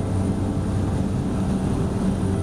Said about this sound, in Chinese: 而我们搭乘水上飞机，沿着海岸线行驶